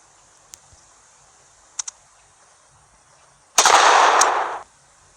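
Gunfire in the video game Vast Survival: a few faint isolated shots, then a loud burst of rapid fire lasting about a second, close and harsh against a quiet background.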